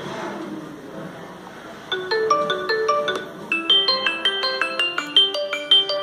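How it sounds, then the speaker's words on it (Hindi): Ringtone from a Xiaomi Mi A1 Android One smartphone: a bright, repeating melodic chime of stepped tones that enters after a couple of seconds of faint background, then plays on steadily and fairly loud, growing denser toward the end. "let's start from its ringtone"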